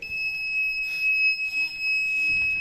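A robotics model car's ultrasonic sensor sets off a buzzer alarm, a steady high electronic tone that holds for several seconds with slight breaks, while faint background sounds stir underneath.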